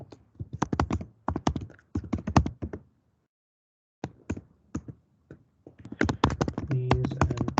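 Rapid clicking keystrokes on a computer keyboard while code is typed, close and clear in bursts, with a pause of silence before the typing resumes denser.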